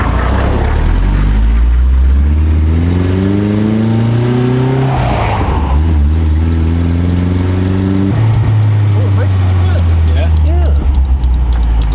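Rock crawler Toyota Tacoma truck engine on a first test drive, a loud steady rumble that rises and falls in pitch through revving, with people talking over it throughout.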